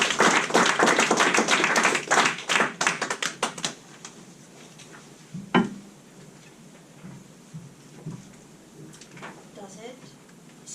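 Audience applause for a speaker at a Manchester Toastmasters meeting, a dense burst of clapping in the opening seconds that thins into scattered claps and fades out, leaving quiet room tone by about four seconds.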